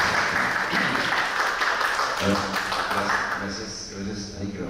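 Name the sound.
audience applause welcoming the book's author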